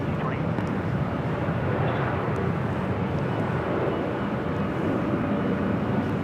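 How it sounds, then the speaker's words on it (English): A 33-year-old Delta Airlines Boeing 757 bound for Atlanta rolls at LAX, giving a steady, broad jet roar that stays loud and even throughout with no clear breaks. "This flight heading to Atlanta, Delta Airlines flight 395, a 33-year-old 757"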